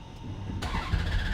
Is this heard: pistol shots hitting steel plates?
no